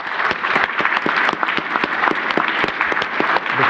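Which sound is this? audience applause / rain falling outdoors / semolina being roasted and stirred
audience applause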